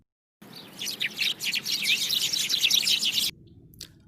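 A sparrow chirps in a rapid, busy series of bright, high tweets, fairly close and clear, over a low background hiss for about three seconds before stopping abruptly.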